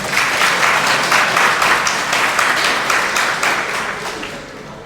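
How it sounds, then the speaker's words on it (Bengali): Students in a classroom break into a sustained round of applause, many hands clapping together at steady loudness for several seconds before it begins to thin out slightly near the end. "তো তোমরা খুশি না খুশি না তাহলে একটা হাততালি দাও"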